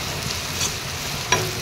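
Spices with salt, turmeric and chilli powder frying in hot oil in a pan for a small fish curry, a steady close sizzle with a couple of brief stirring clinks.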